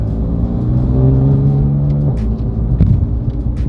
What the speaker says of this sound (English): And Boom is driving me in his F82 M4.